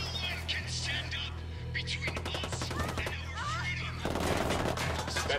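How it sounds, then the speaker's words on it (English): Gunfire in the tactical shooter Ghost Recon: Wildlands, with rapid bursts of automatic shots and scattered single cracks over a steady low game hum, moderately loud and continuous throughout. "Opening fire."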